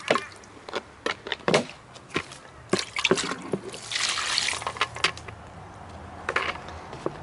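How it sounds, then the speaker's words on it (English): Water swished around inside a container used for composting dog waste and compostable bags, heard as a few short sloshes and splashes followed by a longer burst of swirling liquid, close by, with no talk. "I came prepared with some water today, so I'm just going to give that a little swish around."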